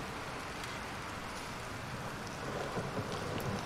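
Steady heavy rain with low rolling thunder fills the stormy setting in the horror video game Bendy and the Dark Revival, a dense constant wash that swells slightly toward the end.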